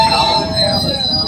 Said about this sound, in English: Thomas gonna pull the train.